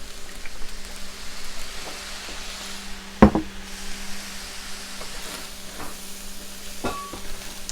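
Rice frying in a cast iron pan gives a low, even sizzle, broken by a sharp clank of a utensil against the pan partway through and a few softer scraping taps.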